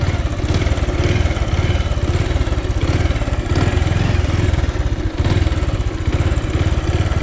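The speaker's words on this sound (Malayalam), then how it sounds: "ഞാൻ വീണ്ടും ഫസ്റ്റ് ഗിയർ കൊടുത്ത് ഇവിടെ ഒരു യു ടേൺ എടുക്കുന്നു." A motorcycle makes a U-turn in first gear, its engine running loud and close with a steady, even throb the whole time and no voices.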